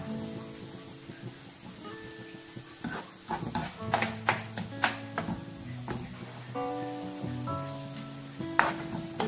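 Onions frying with salt in a pan as they are stirred, a faint sizzle broken by irregular scraping and knocking strokes, under a steady tonal background.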